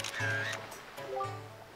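The Picture Box camera shutter in The Legend of Zelda: The Wind Waker HD fires as a short click, followed by bright, chiming in-game tones. It is heard clearly with no talk over it.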